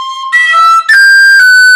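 A tin whistle plays a short phrase of the Irish tune Kitty's Rambles, several clear bright notes in quick succession with tongued attacks and a slur, close and loud.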